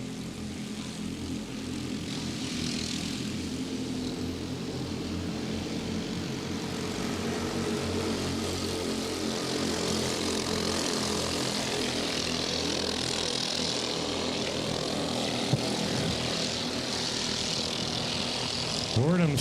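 Racing karts' engines at Grand Bend Speedway during a live race, a continuous layered engine drone from several karts battling on track, running throughout beneath commentary.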